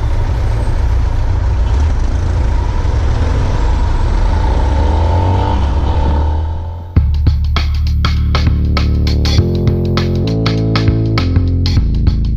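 A car drives through Bacolod City streets toward Gaisano Mall, a loud steady engine and road rumble that shifts abruptly to a busier mix of passing traffic with rattling clicks and clunks.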